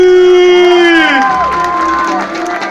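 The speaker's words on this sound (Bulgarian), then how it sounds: "Аплодисменти!" Children at a spring play event cheer and shout in a loud, close crowd, with a sustained high vocal tone sliding down as the voices blend into excited cheering.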